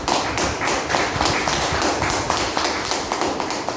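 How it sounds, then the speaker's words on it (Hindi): Crowd applause for people who have reached success at a gathering, steady dense clapping from many hands throughout, fairly loud and continuous with no pauses. "इनके लिए जोरदार ताली हो जाए।"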